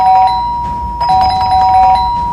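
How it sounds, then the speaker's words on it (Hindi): An electronic doorbell chimes several times in quick succession, its bright tones ringing close and clear. "डोरबेल बजे जा रही थी"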